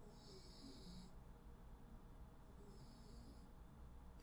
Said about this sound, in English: I don't know if you guys can hear my dog snoring